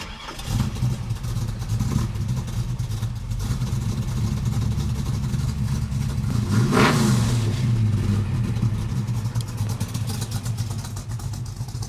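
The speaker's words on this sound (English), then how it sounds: "It's got those Flowmaster FXs on it, and I think they sound like crap." A 1964½ Ford Mustang fitted with Flowmaster FX exhaust idles with a low, steady rumble, then gives one quick rev around the middle that rises and falls before settling back to idle.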